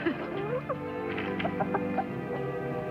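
Two newly hatched chicks cheep in short, high chirps that rise and fall, with clucking fowl close by, a steady run of small calls over low background noise.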